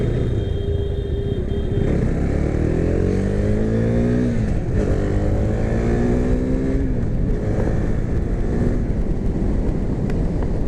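A 2017 KTM Duke 390 motorcycle engine drones loud and close while riding, rising through repeated upshifts with steady revving pitch climbs and brief drops between gears, under constant wind noise.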